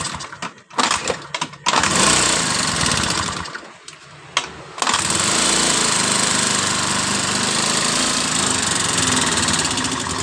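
A Honda Beat FI scooter engine with a rough mechanical noise sputters through a few short starting bursts, then settles into a loud, continuous, harsh running buzz close by.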